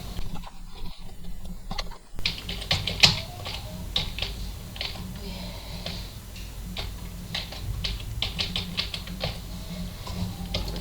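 Keys tapped in a quick irregular series on a computer keyboard while entering a password to log into Windows 11, clicks close and clear over a low steady hum, with a short quieter stretch at the start.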